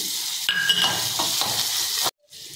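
Asafoetida, cumin and mustard seeds sizzling hard in hot oil, a loud, close, continuous crackle that cuts off abruptly near the end before a quieter hiss returns.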